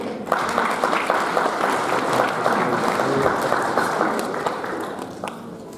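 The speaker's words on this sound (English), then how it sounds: "So a huge round of applause for Jafar bhai." Audience applause at a Canada-Pakistan Association 50th anniversary event, loud, dense crowd clapping that holds steady for several seconds and then tapers slightly toward the end, with no voices over it.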